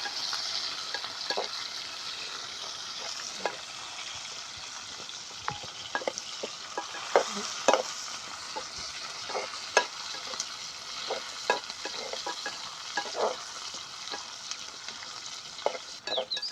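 Onions being sautéed in a pan for green peas biryani: a soft, steady sizzle under frequent light scrapes and clicks of a stirring spoon, moderately close.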